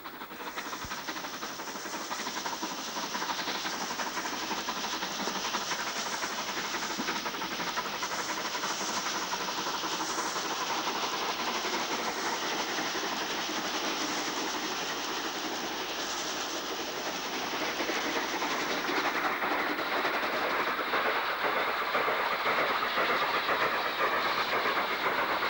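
Steam locomotive Bulleid Pacific 34079 climbing the Lickey Incline with a double-chimney class 9F banking engine at the rear; a steady, loud broadband roar and hiss of the train persists throughout without speech.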